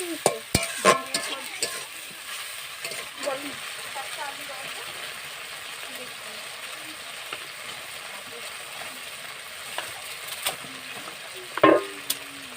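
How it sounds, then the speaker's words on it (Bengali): A spice paste of ginger and mustard sizzles gently in a pan for a Bengali fish and fish-roe kalia. Quiet frying sits under scraping stirs and clinks of the spoon, with faint voices at times. "মশলাটা খুব সুন্দর লাল লাল করে কষানো হয়ে গেছে"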